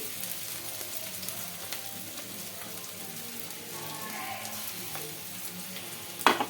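Onions, tomatoes and green chilli paste sizzle steadily in a pan, with a bright, even crackle of frying throughout and a brief sharp clatter near the end.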